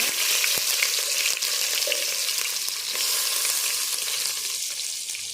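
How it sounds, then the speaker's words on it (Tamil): Two hundred grams of onions fry in refined oil for chicken dum biryani, a loud, constant close-up sizzle with faint occasional clinks running through the whole stretch. "இது நல்லா கொஞ்சம் கோல்டன் ப்ரௌன் வர வரைக்கும் நல்லா நம்ம வதக்கிக்கணும்"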